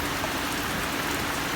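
Steady rain falling outdoors on a wet day, a dense, even hiss with no pauses and no voices.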